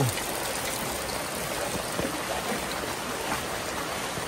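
Floodwater rushes through a street during heavy rain, a continuous close wash of flowing water and splashing drops with no break.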